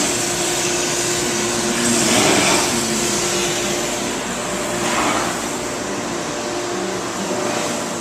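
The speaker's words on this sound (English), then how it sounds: "It's going to get real loud here with the barrel washer." A barrel washer runs loudly in a winery cellar, a constant broadband roar and hiss with slight surges, filling the space without pause.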